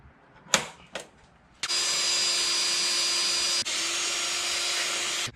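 A power drill bores a hole in a Jeep Wrangler JK for a hood strut. A couple of sharp knocks come first, then a loud, close, steady high whine runs for several seconds with one brief dip midway.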